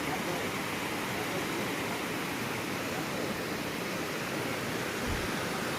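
Water pours down Kolla Bailu waterfall in a dense, unbroken roar that fills the whole clip at steady loudness, with a brief low thump near the end.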